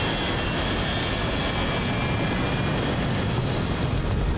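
Fighter jet engines roar through a movie dogfight with an enemy MiG, a loud, steady, unbroken rush of jet noise with no talking.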